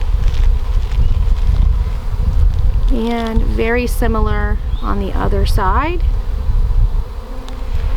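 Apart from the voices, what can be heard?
honey bees buzzing during orientation flights at hive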